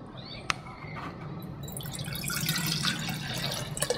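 Vinegar poured into a bottle during a penny electroplating setup, soft trickling and gurgling liquid building steadily after a faint clink, quiet and close with no talking.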